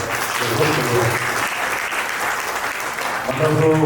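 Loud, sustained applause from a crowd at a 61st birthday celebration in an indoor hall, steady clapping for about four seconds with a voice audible near the start and end.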